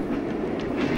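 A train wagon rolls on rails with a steady, heavy low rumble and faint rattling, continuous and fairly loud throughout.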